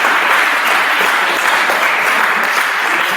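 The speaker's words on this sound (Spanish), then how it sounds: "Un aplauso para" Dense, loud applause from a large audience at a talk on women in sport, a steady wash of clapping with no pauses or voices over it.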